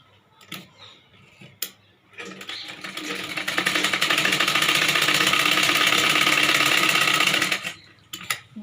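A sewing machine stitches a simple blouse, running in one steady rapid whirring burst of about five seconds after a few brief clicks, with short taps and handling noises before and after.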